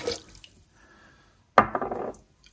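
Liquids such as vinegar and rum poured into a blender jar for a mojo pork marinade, a short splash and trickle after a faint earlier pour, close and clear with no talk.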